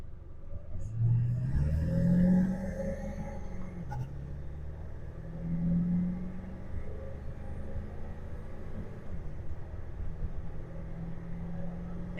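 A 2001 Ford F250 with a 7.3 Powerstroke diesel accelerating on an open road, a low rumbling engine that swells in two revving surges and then settles into a steady, quieter drone.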